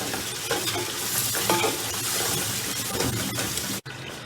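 Browned onions fry and get stirred in a pot for meatball (kofta) biryani, giving a steady close sizzle with scraping spoon strokes that stop abruptly near the end.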